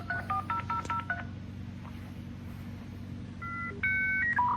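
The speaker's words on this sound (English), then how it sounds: "My wife's calling me. That's my ringtone." A mobile phone rings with an incoming call in a garage, a short melodic sequence of electronic tones playing in two bursts over a low steady hum.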